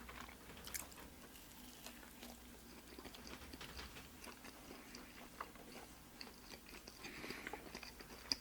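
Someone chewing a Burger King BK Melt burger with chewy bread, making soft, close, quiet mouth sounds with faint crunches and wet squishes throughout.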